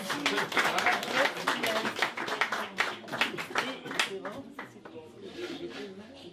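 Audience clapping at a rum shop inauguration in Paris, steady dense applause from a nearby crowd that thins and fades toward the end, with voices mixed in.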